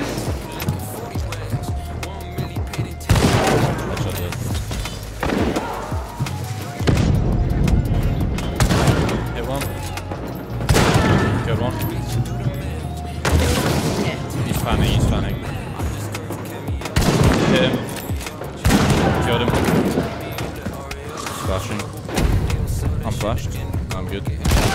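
Bursts of gunfire from a first-person shooter video game recur every few seconds amid a busy, loud game mix, with players talking over the action.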